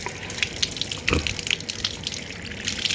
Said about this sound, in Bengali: আমি এই যে কলটা ছেড়ে দেব এই যে দাদা একটু আস্তে খুলে দিই বেশি জোরে হয়ে গেছে